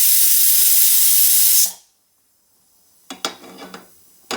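A pressure cooker vents steam in a loud steady hiss that cuts off abruptly after about a second and a half. Brief silence follows, then a few light metallic clinks of kitchen utensils.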